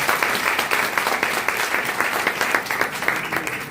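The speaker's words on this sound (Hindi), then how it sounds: "तो सब तालियों के साथ इनका एक बार स्वागत है।" Audience applause welcoming two speakers at a religious spiritual gathering, a loud, even wash of many hands clapping with a rapid pulse, continuous throughout.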